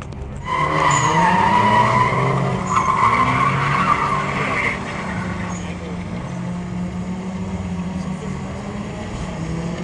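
Nissan 240 drift car sliding at a drift event, a loud sustained tire squeal with wavering engine drone, strongest early and fading to a lower rumble as the car moves away.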